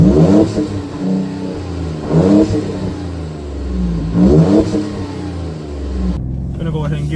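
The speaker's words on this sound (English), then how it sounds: "I'm gonna go ahead and give it another acceleration run here" A 2017 Ford Raptor truck with a V6 accelerates hard in repeated runs, its loud engine note rising in pitch through each gear before dropping at the shift, then surging again.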